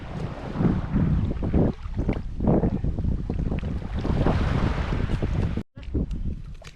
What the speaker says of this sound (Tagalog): Medyo malakas pa ang hangin kaya dito muna tayo sa likod.